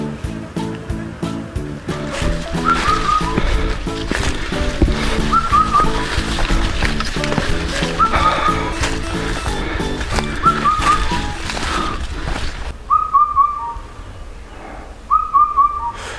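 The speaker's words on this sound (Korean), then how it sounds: "새소리가 되게 특이하네" Unusual bird song on Daemisan mountain in Chungju: short whistled phrases repeat every couple of seconds over a dense, steady background. The calls stand out alone near the end.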